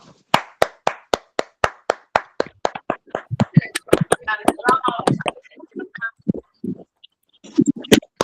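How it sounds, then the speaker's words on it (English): A few people clap over an online call, sparse and uneven hand claps from unmuted participants at first, then scattered voices and a few final claps. "Let's give him a big round of applause."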